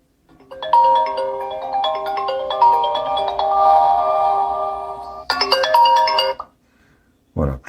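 Ringtone of a UMIDIGI Power 3 smartphone plays loudly up close, a bright repeating electronic melody of chiming notes that stops abruptly, followed by a brief thump.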